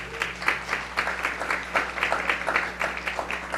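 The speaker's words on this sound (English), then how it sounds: "let's give these students a round of applause" An audience at a school board meeting applauds students, a steady wash of many hands clapping at moderate volume, slightly distant in a hall with a low hum underneath.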